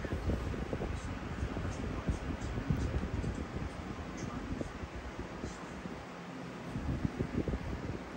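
A job site clip fan runs at full power, a steady close rushing of air with wind buffeting the microphone; speech-like murmurs may sit faintly beneath.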